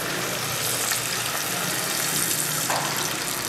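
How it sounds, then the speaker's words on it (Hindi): Water poured into a pot of browned chicken for Kashmiri pulao, a loud continuous splashing hiss mixed with sizzling from the hot pan, steady throughout with no voices. "इसमें तकरीबन 2 गिलास पानी डाल दें।"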